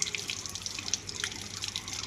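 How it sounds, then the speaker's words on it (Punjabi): Water drains from homemade paneer, trickling and dripping steadily at close range with small splashes, no voices over it. "ਹੁਣ ਆਪਾਂ ਨਾ ਚੰਗੀ ਤਰ੍ਹਾਂ ਦਾ ਪਾਣੀ ਕੱਢ ਦਾਂਗੇ"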